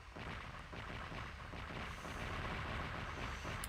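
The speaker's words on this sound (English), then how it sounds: "In a flurry of fantastic display of explosions, also known as fireworks." Continuous booming explosions from a fireworks display in the Sonic Adventure video game, a dense, steady rumble filling the whole stretch with no talk over it.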